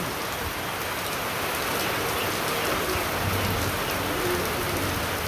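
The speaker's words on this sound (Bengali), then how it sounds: "চতুর্পাশে বৃষ্টি এমন নামছে খুব ভালো বৃষ্টি নামছে" Heavy monsoon rain pours down outdoors, a dense, loud, continuous hiss of drops striking surfaces that holds steady from start to finish with no voices.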